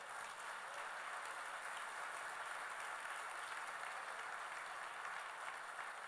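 A church congregation applauds together in a steady, dense wash of clapping that holds at an even level for about six seconds, with no voices standing out above it.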